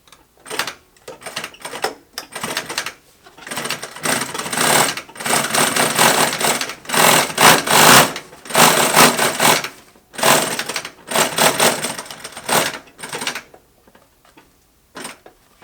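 Sewing machine with a binding attachment stitching mil-spec 4088 one-inch nylon webbing binding onto a tote bag made from a sail, running in repeated bursts of steady whirring separated by short pauses, close and alone.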